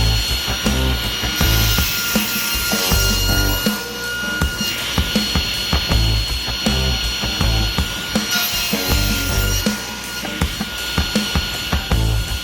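Saw cross-cutting wood pieces down to size for knife scales, a loud, steady run of dense rasping cuts with brief dips between passes, close and alone without talk.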